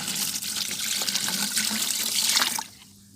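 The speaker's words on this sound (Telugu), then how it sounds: "ఒక లీటర్ వాటర్ అయితే నేను యాడ్ చేసుకుంటున్నాను" About one litre of water pours steadily into a container of sapota fruit pulp for a few seconds, splashing up close, then stops abruptly, leaving near silence.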